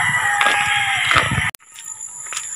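Chickens and roosters, including fighting cocks, heard loud and close, with a crowing call and clucking over steady background noise, ending in a brief sharp cut before quieter fowl sounds continue.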